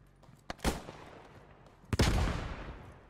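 Pistol gunfire in a first-person shooter video game: two sharp shots about 1.5 seconds apart, each with a loud crack and a rumbling tail, the second tail longer, no talking.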